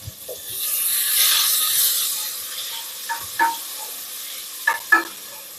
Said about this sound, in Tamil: நல்லா வதக்கிடணுங்க.